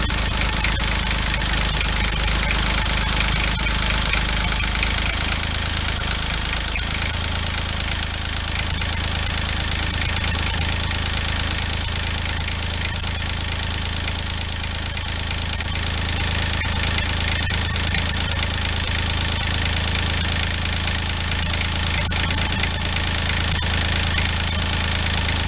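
A Renault D30 tractor engine idles nearby with a loud, steady, knocking diesel chug that holds an even rhythm throughout, with no voices over it.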